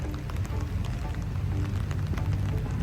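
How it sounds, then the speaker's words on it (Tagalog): Heavy rain pours down over a pond in a Japanese garden at Luneta Park, Manila, a dense, steady hiss of drops on water and surfaces that continues unbroken throughout, with no voices. "bumuhos na naman yung ulan dito sa Maynila"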